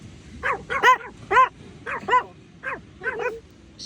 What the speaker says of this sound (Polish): Jeśli się ktoś zastanawiał, czy pan szczeka, to szczeka, tak?